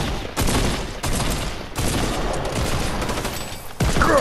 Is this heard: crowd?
no